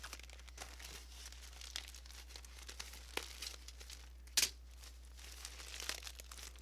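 A plastic bag wrapping a replica wallet package is cut open, giving close, quiet crinkling and rustling in scattered bursts, with one sharp louder crackle, over a steady low hum.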